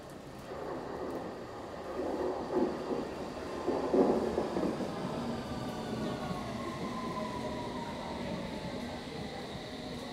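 A London Underground District Line train rumbling on the Tube, a faint steady low roar with rising and falling wheel and motor tones, swelling slightly midway.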